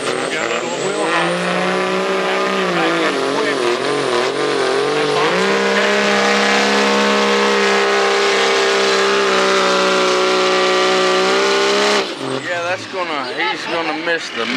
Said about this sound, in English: They got to wind that turbo up so it hits the sweet spot that they like.